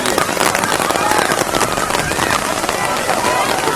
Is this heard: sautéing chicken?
no